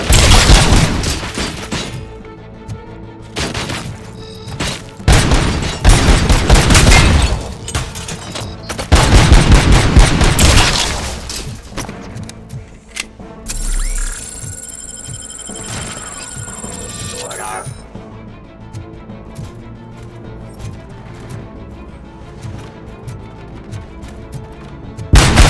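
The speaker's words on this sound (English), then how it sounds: "Just keep shooting." Gunfire in the video game RoboCop: Rogue City, loud rapid bursts and booming shots clustered in the first half, then fading into a quieter stretch of game ambience and effects.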